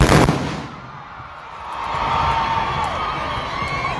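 A loud rifle report opens a firing-point volley at a Zambia police pass-out parade, followed by a broad, sustained wash of crowd noise and echo.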